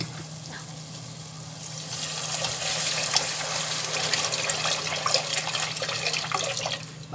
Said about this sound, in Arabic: هحط بقى كده مية سخنة من الكتل على طول